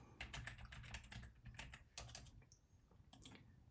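Computer keyboard typed on in quick, uneven bursts of crisp key clicks, close up and clear with no talking, as a file is renamed.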